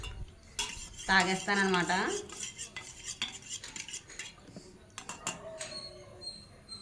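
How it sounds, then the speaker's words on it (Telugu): A spoon stirs a weight loss drink in a glass, with quick clinking taps and swirling scrapes close by, fairly quiet, with someone speaking briefly. "నేనైతే ఫస్ట్ ఇందులో కలిపేసుకుని"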